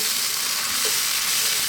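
Mushroom tomato pasta sauce sizzles on medium heat, a dense, even hiss with a brief stir partway through.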